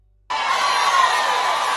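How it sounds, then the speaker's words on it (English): A crowd erupts in cheering and whooping after a moment of silence, a loud, sustained roar of many voices that holds steady to the end. "Listen to the crowd though."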